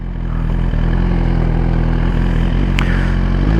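Suzuki Gixxer motorcycle engine running steadily and close, a loud, even low rumble with a brief higher whine near the end.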